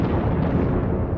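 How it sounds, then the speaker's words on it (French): A bomb blast from the Allied bombing of Berlin rolls out as a dense, loud, low rumble, sustained and even for about a second with no clear sharp onset. "En 1940, les Alliés bombardent Berlin."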